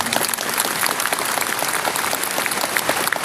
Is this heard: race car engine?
no